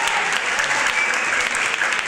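An audience claps steadily at the end of a talk on skepticism and science, a dense, even burst of applause filling the room.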